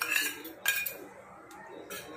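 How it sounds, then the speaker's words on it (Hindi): A spoon clinks and scrapes against a metal bowl as mashed potato filling is mixed with spices and salt, several close, quick strokes over a quiet background. "और इसे अच्छी तरह से मिक्स कर लेंगे।"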